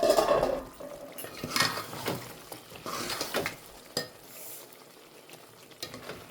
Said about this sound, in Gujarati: ચાલો આપણે મસાલો ફરીથી મિક્સ કરી નાખીએ.